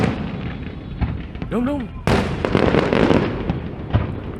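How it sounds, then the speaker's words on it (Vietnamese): Fireworks at a 2016 New Year celebration crackle and burst in a dense, rumbling barrage, with a sharp loud boom about halfway through, while people talk close by. "pháo bắn sao không bể"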